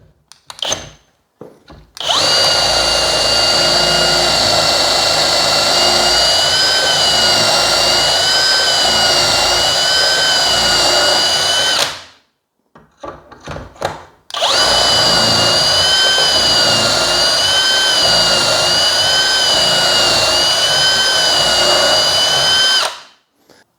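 A drill bores pocket holes through an 18mm board in a pocket hole jig with dust extraction. It makes two loud, sustained whining bursts of about ten seconds each, separated by a short pause, very close and with no talk.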